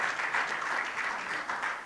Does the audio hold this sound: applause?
yes